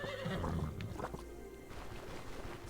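Horses in the Stoneshard video game let out a loud, wavering whinny near the start, followed by softer snorting and quieter sounds. No one speaks.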